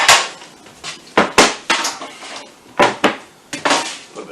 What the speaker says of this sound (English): So we will grab a baking sheet out of here.